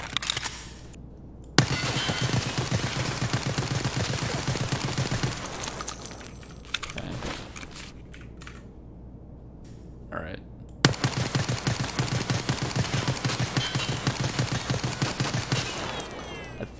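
Rapid automatic gunfire from VEPR and SKS rifles in the Escape from Tarkov video game, two long sustained bursts separated by a quieter gap with a few single shots, loud and close.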